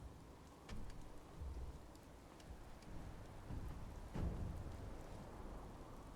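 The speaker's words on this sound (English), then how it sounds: "it's already raining" Rain and thunder in the Fallout 76 video game: a soft, steady patter of rainfall with low rolling rumbles of thunder swelling and fading several times, the strongest roll near the end, all fairly faint and distant with no talk.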